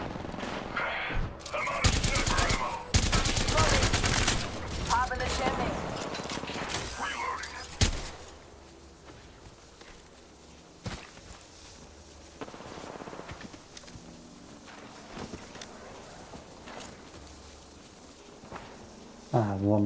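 Bursts of automatic and single-shot gunfire from an Apex Legends battle royale match, loud and dense early on, then sporadic shots and mechanical clatter, with game voice lines speaking over the fighting.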